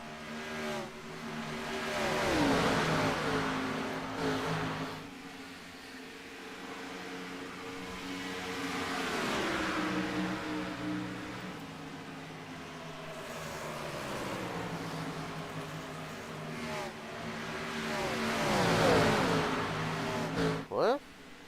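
Race car engines whine in a sim racing video game during a multi-car league battle, rising and falling in repeated sweeps as cars pass, with a commentator's voice running over the top.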